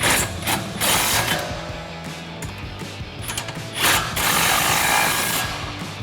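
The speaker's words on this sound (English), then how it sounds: "you can fully tighten them down again with your 18mm socket" A ratchet with an 18mm socket clicks in quick bursts while tightening the front strut nuts on a 2005-2009 Mustang GT, close and busy with metallic clatter and short pauses between runs.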